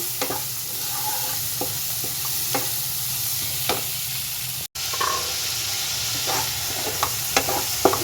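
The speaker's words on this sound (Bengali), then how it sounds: "এইগুলো আমি এখন ভালোভাবে কষে নেব" Tomato and small tengra fish masala stir-fried in a pan, with a steady sizzle of oil and intermittent scraping strokes of a spatula at close range, no talking.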